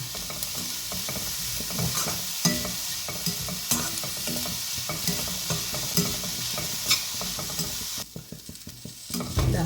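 Carrots and other vegetables sautéing in a pan for a drumstick-leaf upma, stirred again and again so that repeated scraping strokes ride over a continuous sizzle, close and fairly loud, before the sound thins out near the end.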